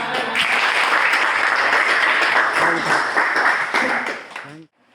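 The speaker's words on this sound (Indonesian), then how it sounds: "Tepuk tangan" Classroom applause from students rings out loud and steady for several seconds, then cuts off abruptly.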